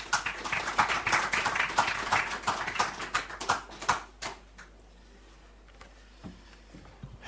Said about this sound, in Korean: 여러분의 뜨거운 박수 부탁드리겠습니다.